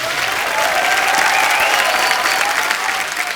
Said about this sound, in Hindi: फिर से तालियां बनती हैं।